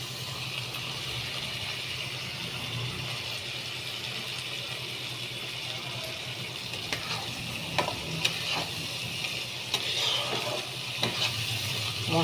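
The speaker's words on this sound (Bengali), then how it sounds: "মশলাটা ভাজা হোক।" Ground spice mix of coriander, cumin and dried chilli frying in oil for an Indian-style dish, a steady close sizzle with occasional stirring scrapes and clicks of a utensil against the pan, no talking.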